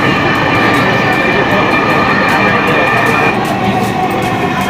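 Steady loud rumble and rolling rail noise inside a moving Dhaka metro rail train, a continuous close drone with a faint tonal hum that barely changes across the whole stretch.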